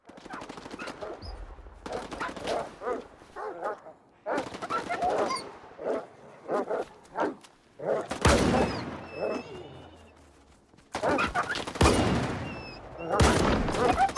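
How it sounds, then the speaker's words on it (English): Dogs bark amid a fight in the video game Stalker 2, with loud bursts of rapid gunfire hammering in repeated volleys and short gaps of quiet between them. Voices are faintly present. "He's just fighting dogs."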